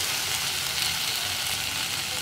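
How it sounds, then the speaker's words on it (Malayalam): Tomato and okra are sautéed with salt in a pan, giving a steady, close sizzle and frying crackle that holds evenly throughout without any talking. "ഉപ്പും കൂടി ചേർത്ത് നന്നായിട്ട് വഴറ്റുക"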